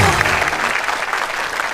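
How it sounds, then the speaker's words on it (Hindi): Loud, dense applause from a studio audience at a Hindi comedy talk show, a steady wall of clapping close up that fills the short moment without any voice over it. "जोरदार तालियां रेखा जी के लिए।"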